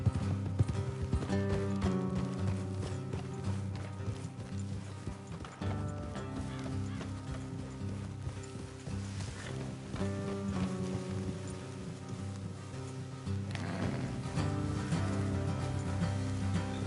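Steady clip-clop of horses galloping in Red Dead Redemption 2, with a constant musical backdrop and occasional whinnies.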